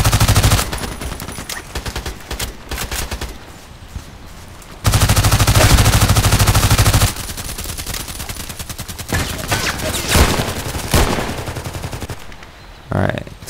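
An SMG fires in rapid automatic bursts in the shooter game Contract Wars, loud and close, with sustained rattling volleys broken by short pauses and scattered single shots.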